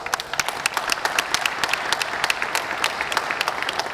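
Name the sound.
crowd applause at car awards ceremony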